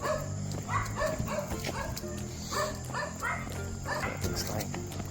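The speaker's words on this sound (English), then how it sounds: "but they're having a dog war." Several dogs fight at night by a beach in the Philippines, yipping, barking and whining in overlapping, restless bursts at moderate distance, with a person's voice underneath.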